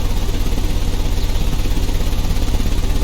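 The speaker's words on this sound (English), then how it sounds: "The engine has started." Car engine idling in the video game Sherlock Holmes: Crimes & Punishments, a loud, steady low mechanical throb with even rapid pulsing throughout and no talk.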